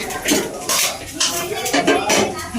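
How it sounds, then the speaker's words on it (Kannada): A pan set down on a stovetop for tempering nellikai (gooseberry) chitranna, giving a few close metallic clanks and scrapes of cookware over a low kitchen background. "ಈಗ ಒಗ್ಗರಣೆಗೆ ಬಾಣಲೆ ಇಟ್ಟಿದ್ದೀನಿ"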